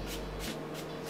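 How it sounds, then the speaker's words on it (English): Leave-in conditioner sprayed from a pump bottle onto a damp wig, a few short rhythmic hissing bursts, quiet and close. "I take a leave-in conditioner and just spray it throughout the wig"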